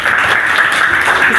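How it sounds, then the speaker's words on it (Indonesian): Children in a classroom clap together in a dense, steady burst of applause that holds at full strength for its whole short length, close and loud, with no voices on top. "Tepuk tangan anak-anak."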